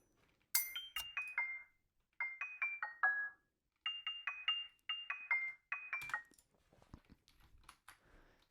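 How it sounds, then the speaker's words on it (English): A knife taps a wine glass in bright, ringing clinks, played back as a sampled glass keyboard in quick descending runs of four or five notes separated by short pauses, ending in a brief scatter of clatter. "I got a knife and tapped it against a wine glass to get the piano sound in here."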